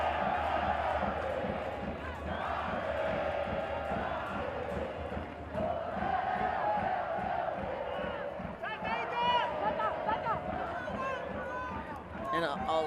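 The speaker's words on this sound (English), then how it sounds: "And a lot of crowd-pleasing olays here in Guatemala City." A stadium crowd at a night football match in Guatemala City roars and chants olé in long swelling waves, with a commentator talking over the din throughout.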